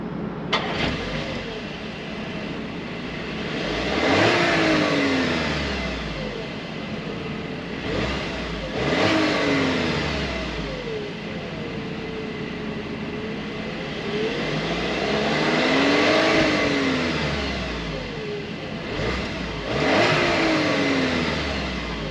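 A 2025 Volkswagen Atlas Cross Sport SUV engine revs up repeatedly during acceleration tests, rising and falling in pitch through several acceleration runs and gear changes, steady and fairly loud throughout.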